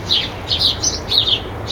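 Several birds squabbling near an apple tree with a nesting hole, giving sharp repeated chirps in quick bursts, close and fairly loud over faint background noise.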